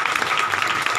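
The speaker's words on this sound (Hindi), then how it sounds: "एक बारी पास्टर जी के लिए ताली बजाओ।" A church congregation claps for the pastor during a Hindi sermon, a dense, steady patter of many hands filling the whole brief moment, with a faint voice underneath.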